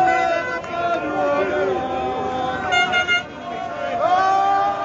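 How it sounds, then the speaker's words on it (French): Car horns honk amid a street protest convoy at Place d'Italie in Paris, rising and falling over crowd hubbub while someone talks throughout. "parce que j'entends klaxonner"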